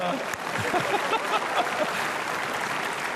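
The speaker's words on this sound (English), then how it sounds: "Would you give this guy a round of applause?" Audience applause during a comedic talk, a loose crowd clapping that fades toward a steady patter, with a brief voice breaking in near the start.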